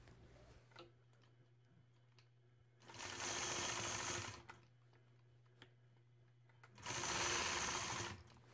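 A sewing machine quilting a block runs in two steady, whirring bursts of rapid stitching about a second long each, close and fairly loud, separated by quiet pauses with faint ticks and a low hum.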